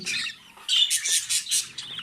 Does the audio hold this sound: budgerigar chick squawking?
yes